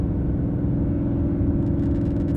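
A 2024+ Ford Mustang Dark Horse with a 3-inch MBRP cat-back exhaust and quad rear exit, set to race mode, holds a deep, even idle rumble, close and steady, with no voices.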